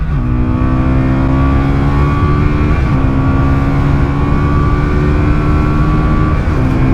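A Lexmoto LXS 125 motorcycle is ridden at full throttle through its six-speed gearbox, its engine droning loud and close and rising steadily in pitch, with brief drops at the gear changes and wind noise throughout.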